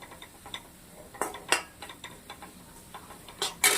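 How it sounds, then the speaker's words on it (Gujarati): Chana dal halwa roasting in ghee in a kadai over a low flame, with soft stirring scrapes and a few sharp metallic clinks of a spoon against the pan, alone without talk. "ધીમા તાપે સરસ મજાનું કઢાઈને પકડી અને શેકવાનું છે"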